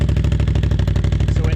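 A Can-Am 800 XMR ATV fitted with a Yoshimura exhaust idles close by, a loud, steady low rumble with an even, rapid pulsing beat that holds throughout.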